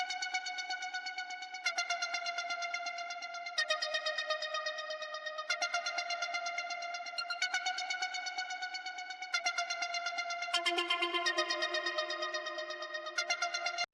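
A looping synth pattern from the Autogun plugin with only EQ applied: bright, buzzy sustained chord tones that shift every couple of seconds in a steady repeating cycle, quiet and with no talking.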